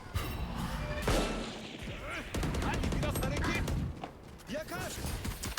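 Rapid gunfire in a shooting video game, with bursts of automatic shots and sharp single cracks close and loud, mixed with other game effects while a player talks over the action.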